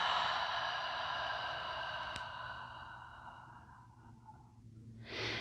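Slow, breathy exhale through the mouth during a guided yoga breathing exercise, a soft steady rush of air that fades gradually over several seconds before a fresh breath begins near the end.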